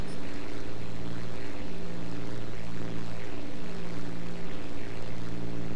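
A propeller fighter plane engine drones steadily in the War Thunder video game, a loud continuous buzzing hum with slowly shifting pitch as the aircraft climbs through clouds.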